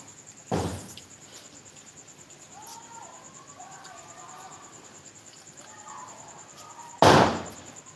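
Two sharp firecracker bangs go off several seconds apart, loud and close, with a steady high insect-like whine and faint voices in between.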